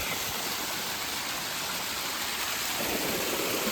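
A hidden waterfall and stream at Kailasakona give off a constant, close, dense rush of falling water, broadband and unbroken, with no voices.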